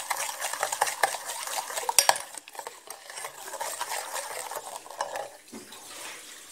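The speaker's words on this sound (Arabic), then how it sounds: "كنزيدها لهذا السيرو كنخلط مزيان البنات" A spoon stirs syrup in a bowl, clinking and scraping against the sides in a steady, busy rhythm. A sharper clatter comes near the middle, then the stirring eases off.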